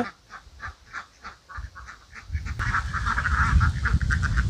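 Ducks on a farm quack in a series of nasal calls, spaced at first and then crowding together into a louder, busier flock chorus close by.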